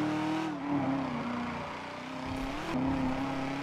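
A truck engine in the GTA 5 video game revs and drones at varying pitch, rising and falling over a few seconds, loud and close with no talk.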